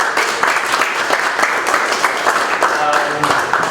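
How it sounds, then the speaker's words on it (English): A room of attendees at a weekly startup meetup claps to welcome a speaker, the applause steady and fairly loud throughout, with a few voices murmuring beneath it. "Let's give him a round of applause for coming out."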